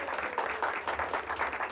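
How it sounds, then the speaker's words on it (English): An audience applauds volunteers at a community day-of-caring event with brief, moderate clapping that comes in soft waves from a mid-distance crowd. "that deserves a round of applause"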